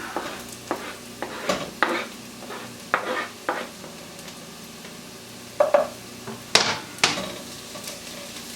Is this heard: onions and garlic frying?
yes